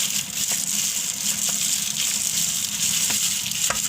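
Soap base being stirred and mixed with a little water for homemade soap, a steady wet swishing with faint clicks of a utensil against the container, close and continuous.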